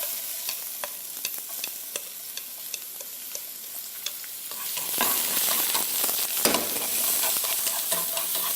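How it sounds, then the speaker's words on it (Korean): Zucchini stir-frying in an oiled pan for bibimbap, a steady bright sizzle with scattered clicks of utensil stirring, swelling louder midway as the pieces are tossed around the pan, with no talking. "애호박 볶아줍니다"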